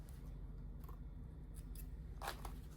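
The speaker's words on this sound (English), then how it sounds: "I'm going to use my snips" Sewing snips cut thread on a small fabric apple shape, a few quick crisp clicks with a sharper double snip near the end, close and quiet against a steady low hum.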